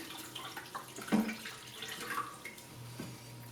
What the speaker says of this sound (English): We're just going to pour all of this solution into the tank